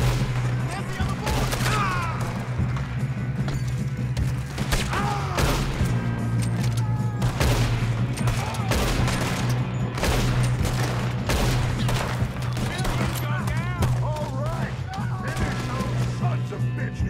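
Dense, continuous gunfire from a shootout in Red Dead Redemption 2, rapid overlapping shots and ricochets packed closely together, with shouting voices mixed into the fighting and a steady low hum beneath.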